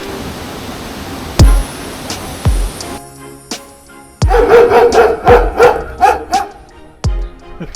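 A dog barks in a quick run of several loud, close barks over steady street noise in Nuwara Eliya, Sri Lanka, heard from a rickshaw, with a few thumps before.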